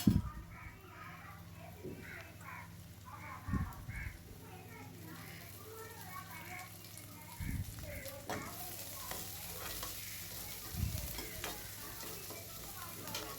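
Dried red chillies fry in a hot tempering for a ponnanganni greens kootu. The sizzle is steady and soft, with occasional spoon clinks and stirring. A voice talks over it and birds chirp faintly in the distance.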